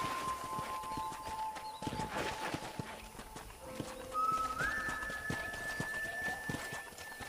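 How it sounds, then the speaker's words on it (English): Hooves clip-clop steadily as a horse is ridden across a ranch in Red Dead Redemption, mixed with game music and ambient tones at moderate loudness. "let's see if you can still ride a horse"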